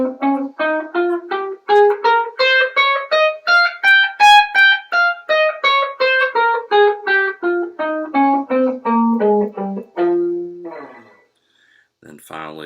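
A guitar plays a minor scale in one position, a quick even run of roughly two dozen clean notes climbing and then descending, ending on a held note and a brief pause, close and unaccompanied by speech.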